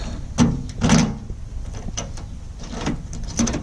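Key turning in the door lock of an old Mazda Miata convertible, a few short metallic clicks and scrapes close to the microphone, with quiet gaps between them.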